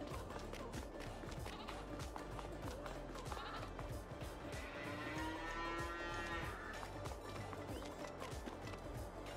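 Cows low repeatedly in a Farming Simulator 22 cow barn on the Elbtal map, several overlapping moos rising over a steady clattering barn background, with some sheep-like bleats mixed in, fairly loud and continuous.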